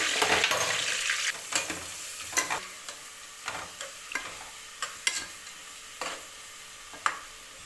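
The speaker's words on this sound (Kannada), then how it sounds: "ಹಸಿಮೆಣಸಿನಕಾಯಿ ಹಾಕ್ಬಿಟ್ಟು ಸ್ವಲ್ಪ ಫ್ರೈ ಮಾಡ್ಕೋಬೇಕು." Green chillies and onion fry in a pan for chicken biryani, with a soft continuous sizzle broken by a series of sharp scraping stirs at irregular intervals, close and fairly quiet.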